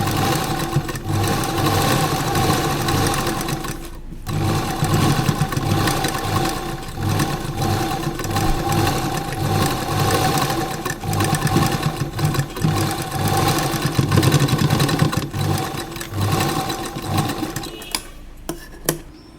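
A sewing machine stitches along the edge of a kurta collar, running in a loud, steady mechanical whir with a rapid needle rhythm before stopping near the end.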